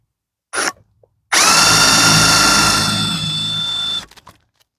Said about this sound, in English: Okay, let's drill a hole over here.